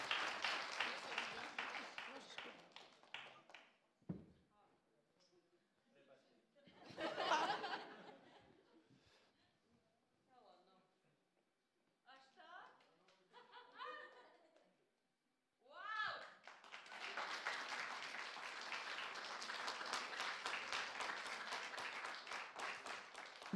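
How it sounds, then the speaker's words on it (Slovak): An audience at a live talk show in Poprad bursts into loud, sustained applause and clapping, with some laughter and talk in quieter gaps between the bursts. "Takže poprosím ešte potlesk pre Adiho teda, aby sme odbúrali trému úplne"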